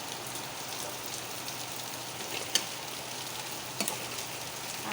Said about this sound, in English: And I give it a stir.